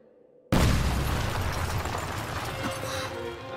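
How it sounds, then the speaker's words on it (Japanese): A loud explosion in the Princess Connect Re:Dive video game bursts in abruptly after near silence, a heavy boom with a long rumbling, crackling tail that stays strong as it slowly fades. "なんだ爆発音。"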